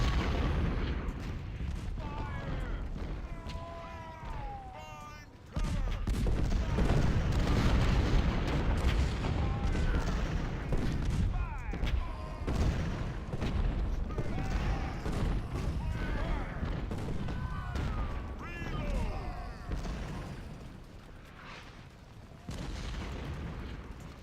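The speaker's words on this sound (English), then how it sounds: "Oh, our artillery's got me." Artillery booms and explosions from the Civil War strategy game Ultimate General: Civil War roll continuously across a dense battle din, with scattered cannon blasts and rumble filling the whole stretch.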